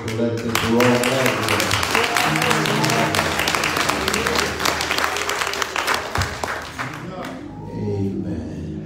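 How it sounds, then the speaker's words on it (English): Church congregation at an anniversary service clapping loudly and steadily for several seconds, dense hand claps mixed with shouts and voices, with organ or keyboard tones underneath, fading briefly before resuming near the end. "Clap like it was a bill collected for all that."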